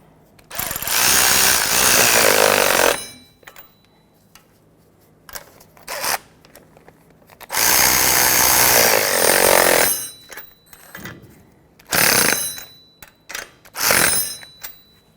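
Power tool driving a 15 mm socket to tighten the tie rod sleeve clamps on a Ford Excursion, heard as two long whirring bursts with shorter quick zips and clicks between them.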